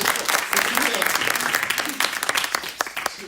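Audience applause at a church youth meeting, lively clapping from a crowd with voices talking and calling out over it.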